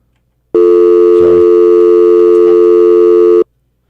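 A studio telephone line sounds a loud, steady electronic tone that starts abruptly, holds for about three seconds and cuts off sharply, with no voices.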